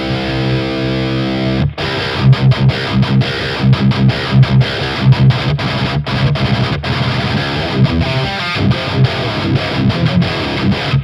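An electric guitar plays tight, sharp metal riffs through a Sunless Effects The Winter overdrive pedal, with chugging palm-muted chords and short stops, loud and close with no talking.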